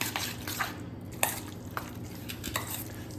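Pizza topping ingredients are stirred together in a bowl, giving soft wet squelches and light scraping strokes at close range, fairly quiet and with no talking.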